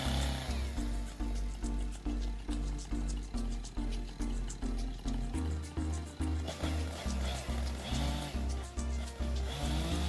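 A saw making two vertical key cuts from the center of the hinge while a tree is felled, cutting in a steady, even back-and-forth rhythm of repeated strokes that stays close and continuous.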